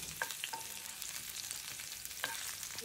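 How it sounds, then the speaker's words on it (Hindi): Sliced onions sautéing in a pan for a bread thin-crust cheese pizza give off a steady close-up sizzle and crackle, with a few sharper clicks of stirring against the pan. "तो इसको अच्छे से सौते कर लेंगे।"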